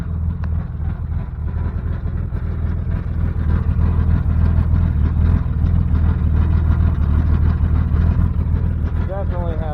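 A 1988 Chevy S10 pickup engine idling with a restricted exhaust gives a steady, deep, muffled rumble that stays loud and constant throughout. A voice is briefly heard near the end.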